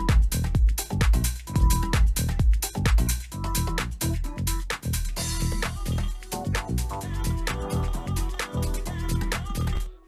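Club track breakdown section built around a Roland 909 crash cymbal with the kick drums pulled out, a loud continuous groove of percussive hits and sustained synth tones, bright cymbal wash entering midway.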